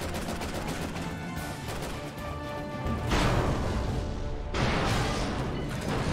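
A loud explosion tears through a Resident Evil 6 game scene. Broad, roaring blasts swell in two heavy surges with crashing debris and a dense rumble, and no voices can be heard.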